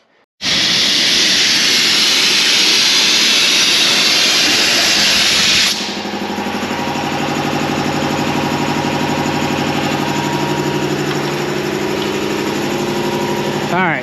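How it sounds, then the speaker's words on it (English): A 10 HP Gardner Denver air compressor runs close by. A loud, steady rush of air comes first, then a continuous droning motor hum that holds to the end. "when the air compressor starts up again, it doesn't have pressure on the heads"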